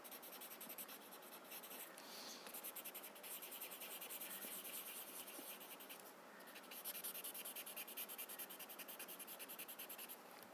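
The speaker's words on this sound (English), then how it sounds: "Push the chalk into the paper." Chalk is rubbed into paper in small circular strokes, giving a steady, soft, close scratching and rubbing texture that continues throughout at low volume.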